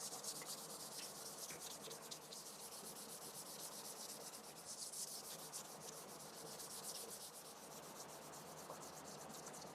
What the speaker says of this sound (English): I'm going to do a scuff sand